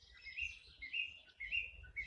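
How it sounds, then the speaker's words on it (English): Small birds chirp and tweet in quick repeated calls near a clifftop church by the sea on the North Yorkshire coast, faint and slightly distant over a low outdoor wind rumble. "The birds are making a lot of noise."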